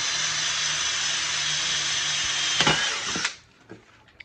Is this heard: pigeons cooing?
no